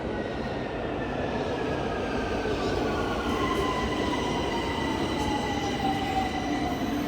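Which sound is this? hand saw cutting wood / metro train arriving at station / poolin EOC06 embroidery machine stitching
metro train arriving at station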